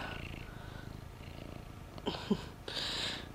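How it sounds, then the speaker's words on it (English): A contented house cat purring close by, a low steady rumble running throughout, with brief louder bumps and a rustle near the end. "very happy cat."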